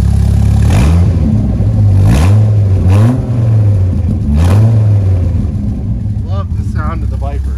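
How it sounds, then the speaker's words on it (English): A 2004 Dodge Viper SRT-10 Mamba edition with a six-speed manual, its engine idling loudly up close and revved in four rising sweeps before settling back, with someone talking over it toward the end. "Sound of the Viper. What an awesome machine."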